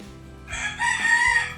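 A rooster crows once, loud and close, a bright harmonic call rising and holding for about a second, with low background rumble underneath.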